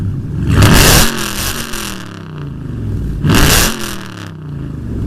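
Honda Accord 8th gen with an aftermarket Magnaflow 11226 performance muffler revving twice, each a loud raspy rise in exhaust note falling back to idle, close by with no talk.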